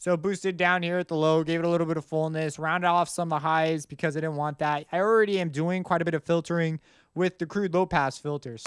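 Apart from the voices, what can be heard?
No everyday noise stands out behind the speech.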